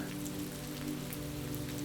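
Light drizzle falling on a quiet night street in Wellington, a soft, even patter of raindrops on hard surfaces, steady and gentle with no voices.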